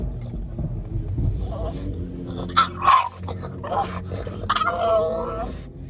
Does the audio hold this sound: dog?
yes